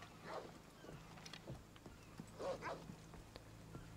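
Black wolves in Assassin's Creed Odyssey growl and yelp in a few short bursts, near and fairly faint, over a steady low game ambience.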